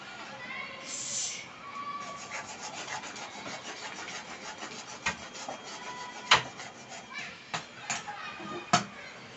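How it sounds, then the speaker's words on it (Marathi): Rice flour being stirred into boiling water in a pan for ukdiche modak makes soft, continuous scraping and rubbing strokes, with a few sharper clacks of the spoon against the pan, fairly faint and close. "आता पिठाला कड आलाय मी आता हे पीठ घालून घेते"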